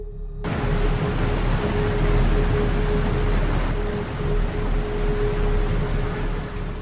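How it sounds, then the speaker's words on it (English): Heavy, unbroken rain pours down during the rainy season, a dense, even hiss that holds steady throughout with no voices. "Unusually heavy rains that lasted for many days caused the river level to rise."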